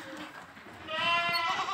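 Goats bleating on an Indonesian farm raising Boer and kacang goats; one wavering, nasal bleat rises over a murmur of other animals and faint background sounds, fairly close.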